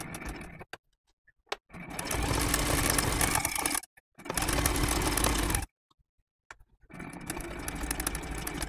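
A sewing machine quilts meandering lines of texture over a turkey appliqué block, running in three bursts of steady, fast stitching separated by short pauses.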